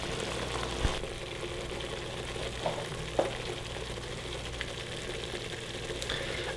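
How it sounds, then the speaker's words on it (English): Homemade tomato marinara sauce simmers gently in a pot, giving a soft, steady bubbling hiss. A few faint pops and clicks stand out, and no voices are heard. "Okay, just a nice easy simmer."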